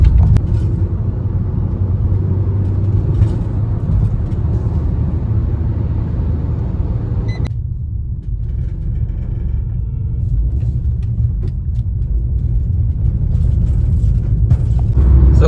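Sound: road traffic on highway near Budhni

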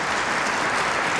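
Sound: audience applauding enthusiastically at a concert

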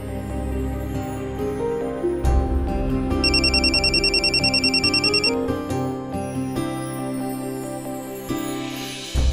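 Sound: telephone ringing

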